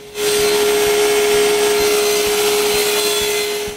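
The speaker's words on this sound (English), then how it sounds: "Now I can rip the walnut pieces, which will hold this top and also act as a lip on the cover" A power saw rips walnut pieces for a tack box top and lip, one steady loud cut with a constant whine holding from start to finish, alone without any voices.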